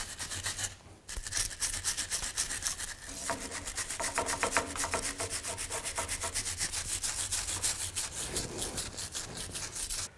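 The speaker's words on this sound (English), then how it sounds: "I'm just going to take a wire brush, just try to clean up some of the rust" A wire brush scrubs rusty axle cover bolts on a 2000-2006 Chevy Tahoe rear axle, a steady, close, continuous rasping broken by one short pause near the start, with no talk.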